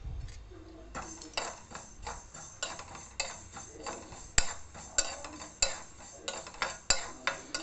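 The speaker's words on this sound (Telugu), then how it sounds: "ఈ గరిటెతోటి 1 మెంతులు వేసాను, దీంతో 2 ఆవాలు వేస్తాను" A metal ladle tips mustard seeds into a pan of frying fenugreek seeds, giving a run of sharp, close clinks and taps in an uneven rhythm over a steady soft sizzle.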